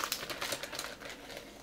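Ziploc bags holding salmon eggs being zipped shut, a close, quick run of small plastic clicks and crinkles lasting under two seconds with no talking.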